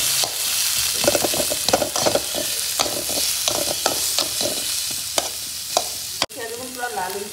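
Onion frying in a pan while being stirred, with a bright continuous sizzle and a run of crisp scraping strokes, close and loud, ending in a sharp clack followed by a softer bubbling hiss.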